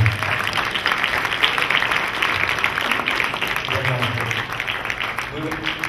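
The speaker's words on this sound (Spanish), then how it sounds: "fuerte aplauso al licenciado Carlos Salvador Benito Bella" A conference audience applauds a lecturer being introduced for a keynote on fishing in Mexico, steady clapping filling the hall while voices carry on under and over it.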